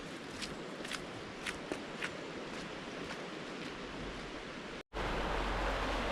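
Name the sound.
fast-flowing River Lund, Lake District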